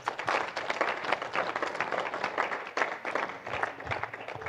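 Congregation applauding at a church service, a steady wash of dense clapping that stays loud and even throughout, near and continuous with no pauses.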